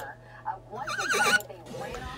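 A horse whinnies in a rising, shaky burst that stands out clearly above a low steady hum, with quieter vocal noises before and after it.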